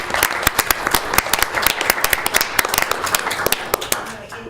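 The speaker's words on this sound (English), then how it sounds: "I think they also deserve a huge round of applause" Attendees at a county board of commissioners meeting give a round of applause, individual sharp claps clearly separable in an uneven, sustained patter at moderate volume throughout.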